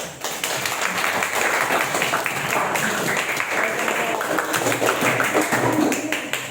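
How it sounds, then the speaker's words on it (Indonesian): Classroom of students applauding after a group presentation, scattered uneven clapping from a modest number of hands, close and continuous for several seconds. "Kita beri tepuk tangan."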